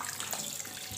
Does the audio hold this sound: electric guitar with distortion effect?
no